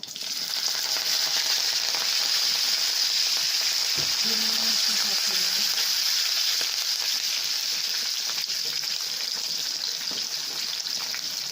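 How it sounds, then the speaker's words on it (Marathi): Curry leaves sizzling in hot oil while tempering for dhokla, a steady loud crackling hiss from the pan throughout, with a brief low bump partway through. "तडतडलं की आपण कढीपत्ता टाकणार आहे।"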